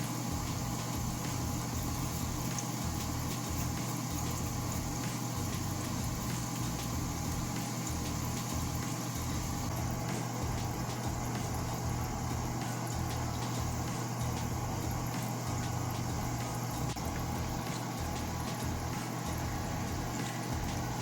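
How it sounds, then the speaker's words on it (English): Jamaican fried dumplings sizzling in a frying pan as they turn golden brown: a steady, dense crackling hiss lasting the whole stretch, with a low underlying hum, close and unbroken, no voices. "And you want to fry it until it's golden brown."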